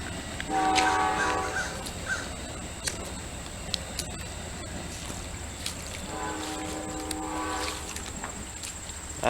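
Amtrak passenger train passing beside an inner-city creek, its horn sounding in two sustained blasts, one early and one later, over a steady rumble of rail noise and background hiss.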